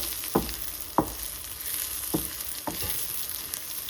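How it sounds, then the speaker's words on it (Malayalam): Soybean chunks fry in a hot pan under a steady background sizzle, with a few distinct scraping stirs spaced about a second apart, close and moderately quiet. "നമ്മൾ സോയാബീൻ ഇടുകയാണ്. ഇടയ്ക്കിടയ്ക്ക് ഒന്ന് ഇളക്കി കൊടുക്കുക."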